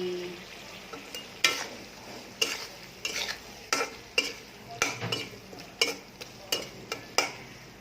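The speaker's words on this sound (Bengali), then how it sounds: "শুটকিটা একটু কষাবো" Dried fish (shutki) being sautéed in a pan for a dal with potato and tomato: a spoon repeatedly scrapes and stirs in a steady rhythm over a quiet background sizzle.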